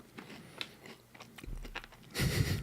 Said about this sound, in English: Crunchy little cookies soaked in probably the exact same strange sweet potato chocolate